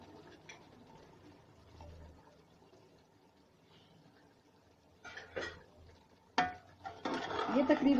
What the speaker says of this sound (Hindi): ये तकरीबन आधी प्याली के करीब कुकिंग ऑयल था, ये हमने इसमें डाला